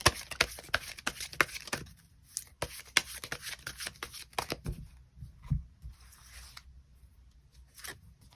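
Tarot cards are shuffled in quick, crisp riffles and taps, with dense clicking bursts separated by short pauses, close and clear in a quiet room.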